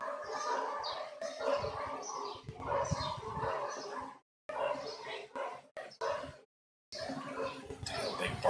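Several dogs bark and yip in short, uneven bursts at moderate distance, broken by brief silent gaps, with someone talking over parts of it and bird calls faintly in the background.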